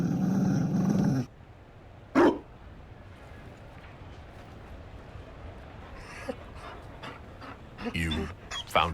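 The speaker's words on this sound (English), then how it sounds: "You found a dog? They don't breed Mabari in Orlais." A Mabari war dog in the video game Dragon Age Inquisition pants softly and steadily amid ambient game sound, with a few short bursts of other noise and character speech nearby.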